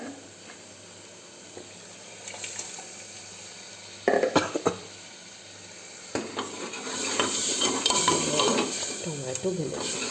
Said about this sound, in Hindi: और ये डाल दूँगी मैं इसमें पानी, इससे जितना भी इसमें ग्रेवी का टोमेटो है लगा हुआ, वो भी मैं इसको हिला के डालूँगी